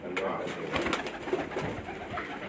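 Pigeons cooing on a rooftop, several soft rolling coos repeating close by over a faint background, with no speech.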